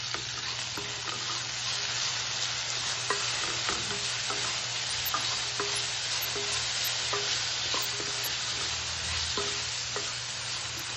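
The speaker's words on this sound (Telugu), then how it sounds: "ఒకసారి మళ్ళీ కలుపుకోవాలి." Ginger garlic paste and salt stirred in a hot pan for puffed rice upma, a steady sizzle running throughout with soft spatula scrapes and taps scattered over it, close and even.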